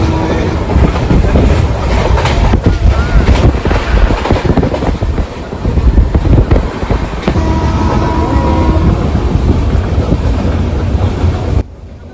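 A train rumbles steadily past at close range near a station in India, a broad continuous roar with faint rail clatter and wind buffeting, holding for about eleven seconds before dropping away abruptly.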